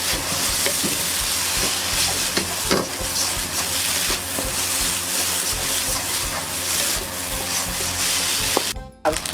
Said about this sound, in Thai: ผัดให้เข้ากันค่ะ